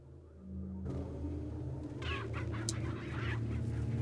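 Chickens cluck and squawk in a game, a burst of bird calls rising over a low rumbling backdrop, fairly close and with no talk.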